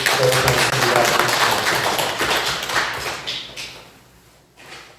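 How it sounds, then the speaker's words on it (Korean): Church congregation applauding together during a Sunday worship service at Woncheon Church, a dense, steady wash of clapping that gradually thins and fades toward the end. "우리 박수로 한번 축복하고"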